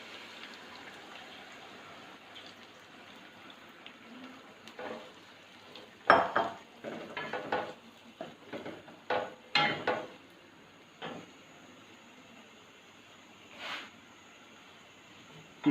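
Yogurt being added to beef in a pot and stirred with a utensil, heard as a quiet run of metallic clinks and scrapes, some sharp and close, over a low hiss, with calm speech.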